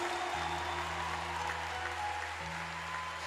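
A church congregation applauds, a steady, even wash of many hands clapping at some distance, with a low organ-like hum sustained beneath it and no clear speech.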